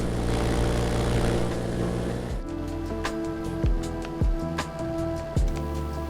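A light propeller aircraft in flight at dawn over the Yorkshire Dales, engine droning steadily and loud with a strong harmonic hum, its pitch shifting partway through, plus a few brief louder bumps of buffeting close by.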